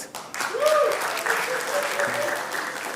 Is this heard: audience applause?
yes